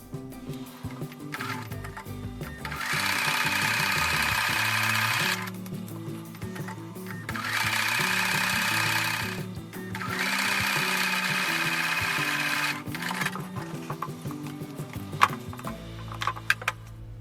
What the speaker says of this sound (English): I'm going to take those back over to the sewing machine and sew a little bit away from that drawn line.